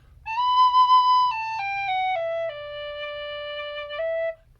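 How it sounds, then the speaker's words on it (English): A clear tin whistle plays a short descending melody of sustained notes with an earthy tone, bright and close, with no talking. "Very, very good all-round whistle."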